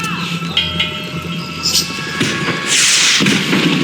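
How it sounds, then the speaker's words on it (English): A fireworks display in the Max Payne 3 video game, with thuds and muffled booms and a bright crackling burst near the end, close and fairly loud under game ambience. "The fireworks display was clearly in my honor, making sure everyone knew to roll out the red carpet for their surprise guest"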